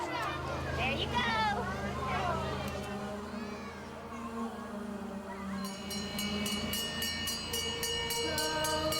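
A Polar Express ride-on train rolls along at an elementary school event, its steady rumble under loud children's chatter and talk, with a bright ringing bell pattern joining in the second half.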